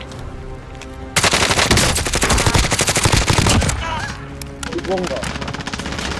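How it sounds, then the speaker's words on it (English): Heavy automatic gunfire in Call of Duty Warzone, a loud sustained burst of rapid shots followed by more scattered firing, with a player's voice speaking over it. "Oh, I'm getting shot at."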